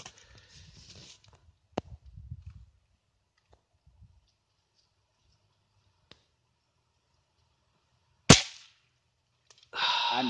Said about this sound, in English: we're shooting some guns at some full pop cans, because we like to see things explode